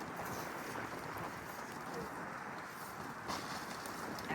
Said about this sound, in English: The wind is hitting my back.